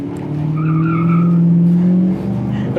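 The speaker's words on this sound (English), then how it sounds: "It'll squeal them big old tires too." Tires on a 1972 Monte Carlo with a stock 350 V8 squeal in a sustained, steady whine over the car's engine drone for about two seconds, then ease off.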